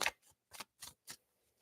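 Tarot cards being shuffled in a few quick riffling bursts, one louder at the start and then three more at an even rhythm, close and fairly quiet with silence between.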